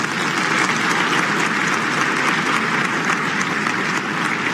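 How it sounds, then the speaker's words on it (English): A large audience at a teachers' award ceremony applauds in a steady, dense wash of clapping that holds at an even level throughout. "Let us give him a clap that will resound"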